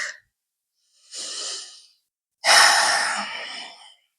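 Slow breaths during a yoga stretch in a home practice: a short exhale trailing off, then a soft inhale, then a longer, louder, airy exhale, each sounding close and alone with quiet pauses between.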